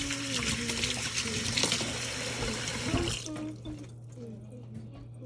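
Fish rinsed under running tap water in a sink, a steady rushing splash that stops partway through, leaving a lower drip and faint handling noises.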